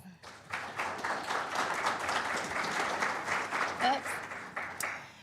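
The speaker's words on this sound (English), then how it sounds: "So please give my colleagues a round of applause." A conference audience at an environmental law gathering breaks into applause, many hands clapping in a dense, lively burst that swells and then thins out near the end.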